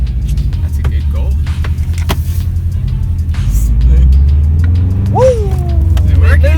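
Subaru WRX with a freshly swapped transmission driving along, a steady low engine and road drone throughout, swelling a little as it picks up speed, with people talking over it.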